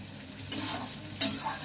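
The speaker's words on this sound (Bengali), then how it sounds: "এটা একটু ভাজা হোক" Spices and curry leaves fry in melted ghee, a short steady sizzle close up with two quick stirring scrapes.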